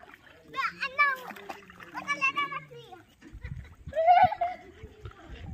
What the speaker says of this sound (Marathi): हे छोटे मंडळी जे आहे पाण्यामध्ये एन्जॉय करताना तुम्ही बघू शकता.